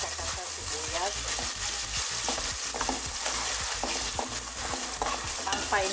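Tomato and onion sauté in a pan with salt and Ajinomoto seasoning, a continuous sizzle broken by repeated scraping stirs of a spatula, up close.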